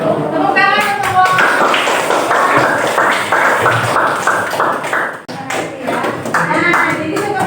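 A classroom group of students applauds after finishing a math presentation, a dense, steady patter of many hands clapping at close range for several seconds, dipping briefly before picking back up.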